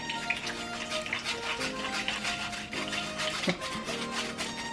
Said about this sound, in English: So I'm gonna go ahead and pass this through the strainer into my pot.